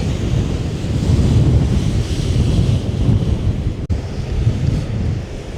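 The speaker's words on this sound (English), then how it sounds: "you can see the waves just smashing against the break wall over there" Storm waves on Lake Erie smash against a break wall under strong wind, a loud continuous roar of surf with buffeting wind noise on the microphone and one sharp momentary dropout.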